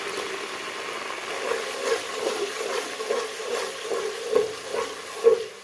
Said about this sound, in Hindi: अब हम इसमें लहसुन और अदरक का पेस्ट जो है वो इसमें शामिल कर लेंगे और इसे 2 मिनट तक हल्की आंच पे फ्राई करेंगे।